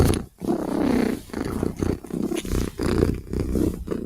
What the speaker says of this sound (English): If Cat is purring, Cat is a happy, happy, happy, happy girl.